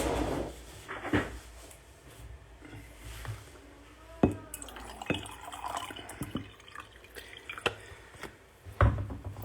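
Drinking water is poured into a cup indoors, heard as a short run of light splashes and drips mixed with clinks and knocks, close and fairly quiet, with no talking.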